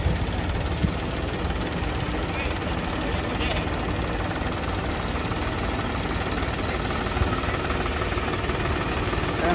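A tractor-mounted forage cutter runs steadily while cutting maize for silage, its engine droning loud and close with a continuous rumbling, vibrating mechanical roar and no pauses.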